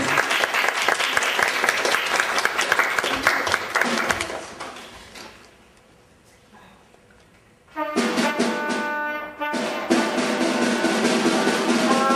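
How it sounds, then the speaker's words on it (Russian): Audience applause at a concert, loud and sustained, dropping away into quiet for a few seconds before a second burst of clapping returns strongly. "Аплодисменты."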